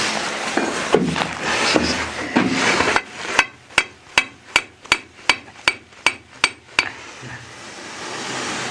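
Hammer driving a basement ventilation pipe into place: about a dozen sharp metallic blows in a steady rapid rhythm, loud and close, following a stretch of rustling and scraping, with no speech.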